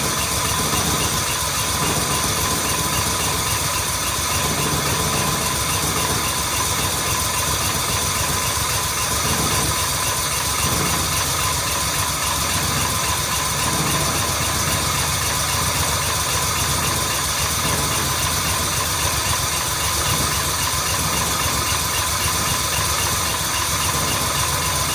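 A Jaguar MKII car engine idles rough, a steady close mechanical drone with an uneven, knocking pulse that runs unbroken throughout with no talking.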